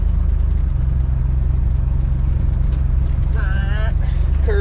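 A 1979 Ford F150 engine drones loudly and steadily from inside the cab while pulling through the gears, and someone speaks briefly near the end.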